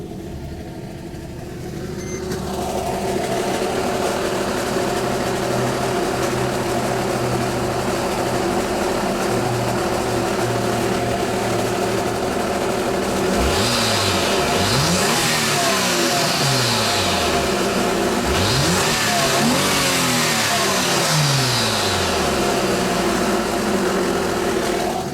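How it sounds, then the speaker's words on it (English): A car engine with a failing alternator runs steadily on a road trip, a constant droning hum with rising and falling whining sweeps building midway, no voices. "Let me find out what the engine noise is."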